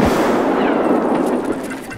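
A frag grenade blast in a tactical shooter, heard as a loud, sustained rumbling roar with crackling debris that stays dense for about two seconds before easing slightly.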